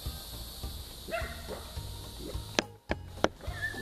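A dog barking at someone skinning a gar, a few sharp, close barks near the end over low background rustle.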